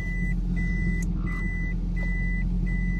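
A car in reverse during a driving lesson, its reversing alarm giving steady evenly spaced beeps over a constant low engine idle, close and clear, with no talking.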